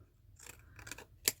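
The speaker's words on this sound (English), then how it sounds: "I have these scissors. They're scalloped scissors." Scalloped scissors snipping paper close up, a few short crisp cuts ending in one sharper snip, quiet and isolated.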